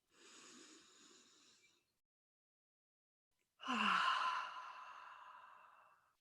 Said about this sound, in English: let's start by taking a few deep breaths.